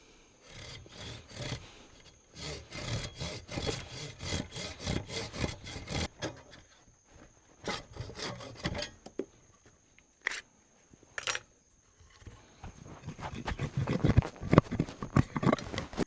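Handsaw cutting through a length of wood for a bushcraft hammer, with bursts of quick rhythmic back-and-forth strokes broken by short pauses, close and fairly loud.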